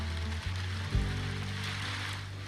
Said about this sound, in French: regardez, t'as des sons de pluie.